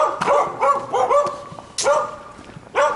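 Several dogs bark and yip in quick, uneven bursts nearby, some sharp and high, with short pauses between volleys.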